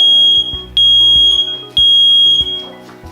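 A Nest Protect smoke alarm sounds during its self-test, giving loud, piercing electronic beeps in a steady pulsing pattern, close to the microphone with no talking.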